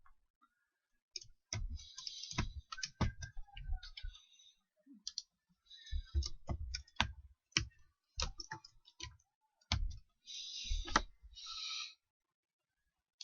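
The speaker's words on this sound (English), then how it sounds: "Let me type something." Irregular clicks and taps of someone typing on a computer keyboard in a home workshop, coming in quick bursts with short pauses between, close and fairly quiet.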